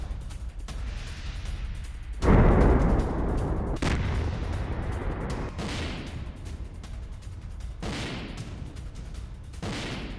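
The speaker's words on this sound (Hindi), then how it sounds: "रूसी फोर्सेस का खार्किव पर बड़ा हमला" Gunfire and heavy booms echo from a Russian attack on Kharkiv at night, with a loud blast near the start followed by repeated distant shots and rumbling bursts.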